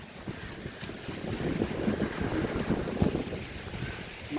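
Strong gusting wind from an approaching typhoon in Quezon City buffets the microphone with a continuous roar that swells and dips, rising to louder blasts toward the middle and end.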